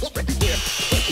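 A power sander working the wood of a baby cradle at its lowest setting, a continuous buzzing whir that holds steady close by for a moment, slight dips in pitch as pressure shifts.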